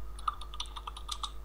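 Quick, close clicks of typing on a computer keyboard, about a dozen keystrokes in an irregular burst with no voices.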